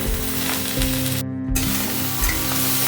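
Green chillies sizzle in hot oil with banana stem frying in the pan, a loud, continuous crackling hiss broken by a brief dropout midway.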